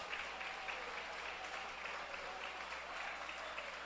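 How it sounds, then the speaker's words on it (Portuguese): A church congregation applauds during a sermon, a continuous wash of many hands clapping heard faintly and at a distance, steady from start to finish. "Palmas com glória a Deus, palmas com glória a Deus."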